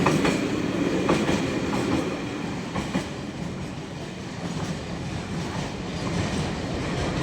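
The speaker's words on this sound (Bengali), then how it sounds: "এই কন্টেনার ট্রেন বিমানবন্দর রেল স্টেশন পাস হয়ে চলে গেল" A container train rolling past Airport railway station, steady loud rumble with rhythmic clickety-clack of wagon wheels over the rails, continuous and close throughout.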